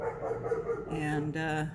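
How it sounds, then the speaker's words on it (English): The neighbour's dog barks next door, with a few short barks and yips heard alongside a person's speech, moderately close. "that's the dog next door."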